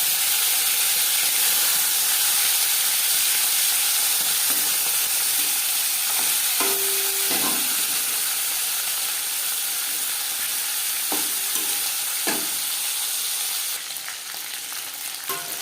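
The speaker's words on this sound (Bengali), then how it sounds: "চার চামচ রিফাইন্ড অয়েল গরম করে নেওয়ার পর দিয়ে দেবো ম্যারিনেট করে রাখা মাছ" Marinated tilapia fish fries in four spoons of hot refined oil, a loud, steady, hissing sizzle with faint crackles and a brief clink or two, close up, easing slightly toward the end, with no talk.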